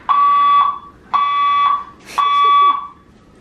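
A building fire alarm in a Montréal apartment blares loud and close in three long, steady electronic tones, each about half a second, separated by short pauses, with no one talking.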